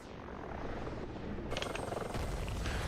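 Rotor thrum of an Mi-24 attack helicopter in a combat video game, steady and fairly loud for about three seconds, joined halfway through by a sharper burst of impact noise.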